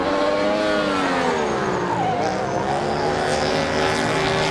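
A rallycross car at Montalegre powering down the straight, its low, rumbly engine note rising and falling in pitch as it passes at a distance, heard alone without talk.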